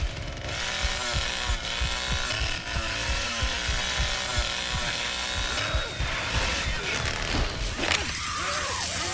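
A chainsaw revs and grinds in the video game Texas Chainsaw Massacre, a loud, rough mechanical drone with rattling bursts and uneven surges across the whole stretch.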